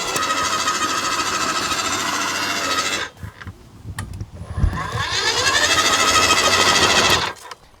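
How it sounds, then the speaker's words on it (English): A new battery-powered auger bores into backyard ground with a loud grinding whir, stops briefly amid knocks and scraping, then runs again in a steady drone before cutting off. "And I can try out my brand new battery powered auger."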